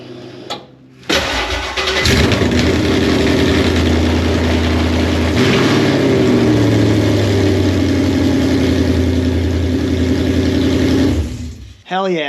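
A Ford Coyote V8 in a Foxbody Mustang cranks and fires up, then settles into a loud, steady idle that runs close for several seconds before cutting off.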